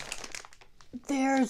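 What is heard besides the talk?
crinkling plastic package of PURE WET body wipes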